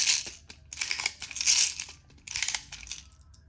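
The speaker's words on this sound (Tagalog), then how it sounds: "lagyan natin ng BBs yung unit ni Bossing" BBs loaded into a Double Bell Pit Viper airsoft gun magazine, a series of crisp rattling, crunchy clicks in bursts with short gaps, close up and fairly loud.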